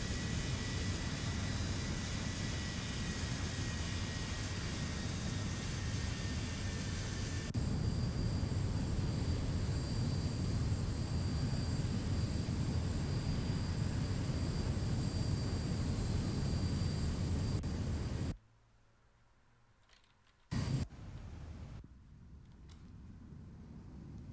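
Steady jet engine roar and whine from a Ryanair Zibo 737-800 airliner flying Stansted to Barcelona in the X-Plane 11 flight simulator. The drone holds evenly, then drops abruptly to a faint hum near the end.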